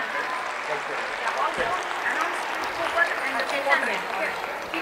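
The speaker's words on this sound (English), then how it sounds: "let's give them a big round of applause" Audience at a Diwali musical night applauding performers, a dense, steady patter of clapping mixed with crowd noise that holds at even loudness for several seconds.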